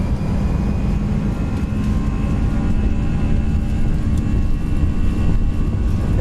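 FlightFactor A320 jet engines in X-Plane 11 spooling up for takeoff at a flex thrust setting, a steady, loud broadband roar with low rumble that holds constant throughout, no talk over it.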